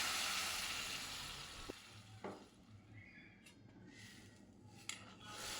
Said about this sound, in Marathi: मग त्यात छान पाणी टाकून घ्यायचं।